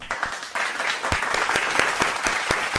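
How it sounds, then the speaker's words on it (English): Short burst of audience applause at a kids' beatboxing battle, sparse distinct claps over a rising wash of clapping, fairly close and moderately loud. "Everyone, clap it up for LMDC."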